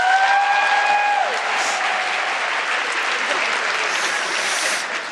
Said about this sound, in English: please clap and cheer